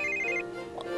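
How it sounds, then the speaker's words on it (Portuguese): Ringing telephone in Minecraft, a short high electronic trill at moderate loudness followed by a lower lingering tone, with no voices over it. "eu não aguento mais esse barulho de telefone"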